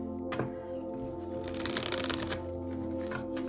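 Thoth tarot cards being riffled and shuffled close up, a crisp fluttering burst of rapid flicks over a steady background hum.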